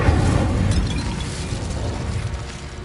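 A fire spell cast in Hogwarts Legacy bursts out loud and close, a dense roaring whoosh with a heavy low rumble that trails off over a few seconds, with no talk.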